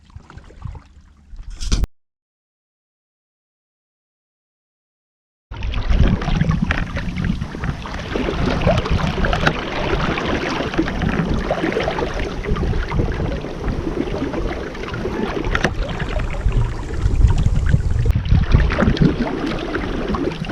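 A small sailing dinghy racing in a regatta at Musket Cove, moving through the water at about four or five knots. Steady rushing water and wind noise run close and fairly loud for most of the clip, after a short gap of silence near the start.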